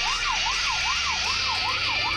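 A police car siren from the Rope Hero video game wails steadily up and down in a smooth, repeating cycle, loud and close, with no one speaking over it.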